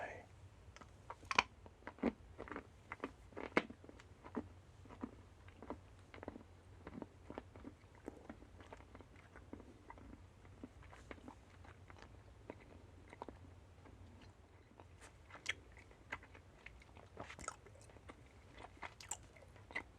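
Someone chews firm candy gum close to the mic in soft, irregular smacks and clicks over about twenty seconds, quiet and intimate.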